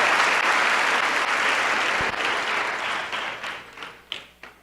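A Spanish-speaking church congregation gives applause to the King, a thick continuous clapping that slowly tapers into a few scattered, distinct claps at the end.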